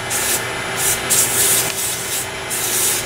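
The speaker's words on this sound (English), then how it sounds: "I'm using 180 grit, and I'm using cloth flexible sandpaper" Cloth-backed 180 grit sandpaper rubs on a wooden turning on a lathe, a close hissing scrape that swells and fades in repeated strokes about every half second.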